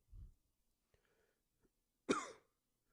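A single close, harsh cough from a person with a cold bursts out after a low throat sound and a few faint clicks in otherwise quiet surroundings.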